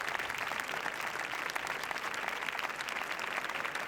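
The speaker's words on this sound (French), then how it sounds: "La salle applaudit." Steady, dense applause from a large festival audience at Cannes fills the room, continuous and even throughout with no voices standing out.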